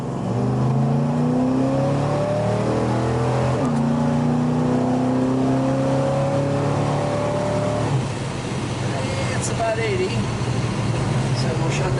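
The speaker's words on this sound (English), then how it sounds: "give this guy a little shot so you can hear what it runs like" A 1970 Dodge Super Bee V8 pulling hard while driving, heard from inside as the engine revs up through rising gears with a brief shift dip, loud and continuous, then easing back to a steady cruise with road rumble and a voice speaking briefly.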